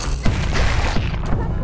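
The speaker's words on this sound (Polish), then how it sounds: "Coś właśnie wybuchło." Explosions and gunfire-like bursts boom through a Bugsnax game scene, several loud impacts layered over continuous rumbling noise.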